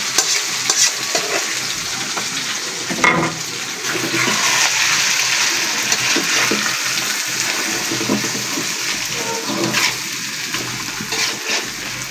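Boiled water spinach (kalmi shak) is stirred and fried in a pan, a steady broadband sizzle with scraping stir strokes and a few sharper clatters throughout, close and fairly loud, no talking.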